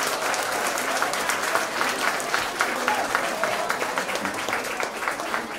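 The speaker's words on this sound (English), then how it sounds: "Let's all give them another round of applause" A crowd applauds continuously, dense clapping holding steady throughout at a lively, even level.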